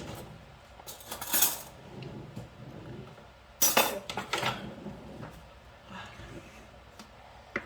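A metal spoon scooping cream for an Oreo and chocolate cake, several close, sharp clinks and scrapes against a bowl in two clusters, with quieter taps between.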